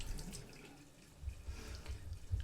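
Warm tap water runs steadily into a sink for washing makeup brushes, a soft continuous splashing with low gurgles that swell slightly toward the end, close and alone without talk.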